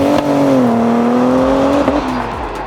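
A BMW X3 M with an M4 Competition engine revs nearby, a loud, sustained tonal engine note that climbs steadily, then drops off abruptly.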